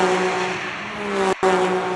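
Race cars in the final race of a championship, taking the green flag, with engines droning in a steady, layered tone, close and loud, that cuts out for a split second before resuming.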